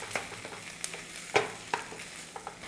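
Semolina taco stuffing with spices and coriander leaves is stirred in a pan, a soft sizzle underneath with scattered spoon scrapes and taps, one sharper clink in the middle, no voices.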